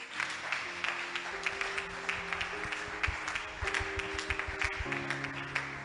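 Congregation clapping steadily together at a coronation prayer service, with continuous crowd applause, sustained musical tones and a low beat underneath.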